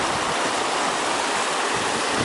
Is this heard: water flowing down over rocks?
yes